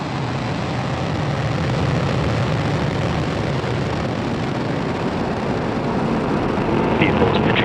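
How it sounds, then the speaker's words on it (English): A Falcon 9 Block 5 rocket lifts off carrying the GSAT-20 satellite, heard as a sustained, dense rumbling roar that stays loud and unbroken throughout, with no speech over it. "Ignition and liftoff. Go Falcon,"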